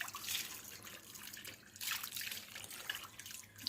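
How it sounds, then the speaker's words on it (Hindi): Tap water runs steadily while something is washed at a sink, with splashing surges rising and falling in a brief close-up stream. "अच्छे से धो रहा हूँ।"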